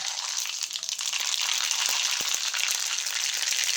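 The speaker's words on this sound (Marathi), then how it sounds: "कढई तापली त्यात टाकत आहे मोहरी" Steady crackling sizzle of mustard seeds popping in hot oil in a kadhai, close and continuous, with scattered sharper pops and no voices.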